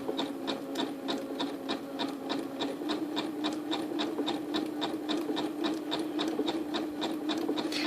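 A Janome Skyline sewing machine zigzag stitches with a beading foot couching a strand of pearls, producing a fast, even, mechanical ticking over a steady motor hum, close up and uninterrupted, with no talking.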